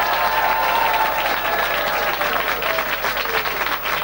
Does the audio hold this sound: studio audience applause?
yes